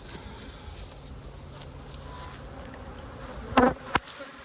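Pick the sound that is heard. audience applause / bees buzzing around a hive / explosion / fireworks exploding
bees buzzing around a hive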